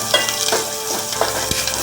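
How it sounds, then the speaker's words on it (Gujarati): Thinly sliced garlic fries in hot oil for a village-style garlic curry, a steady close sizzle broken by a few scraping stirs. "પાતળું લસણ નાખી દેવાનું સરસ લસણ નાખી દીધું છે"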